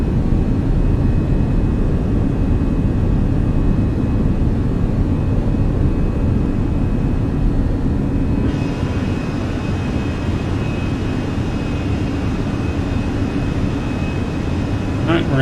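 A Fenix A320 airliner rolls and climbs away on an early morning departure from Montreal in Microsoft Flight Simulator, its jet engines giving a steady, unbroken roar while someone talks over it.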